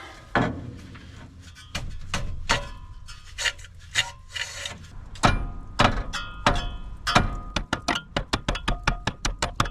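A wrench turns a bolt on the seized, rusted engine of an abandoned Chevrolet C-10, giving loud, close scraping and grinding strokes, then a quickening run of sharp ratcheting clicks at the end.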